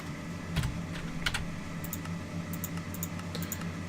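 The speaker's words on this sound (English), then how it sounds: "I'm hitting every wrong button on my keyboard because I'm not used to it" Computer keyboard keys typed in irregular bursts of quiet clicks, close and alone, during a Minecraft modded single-player session.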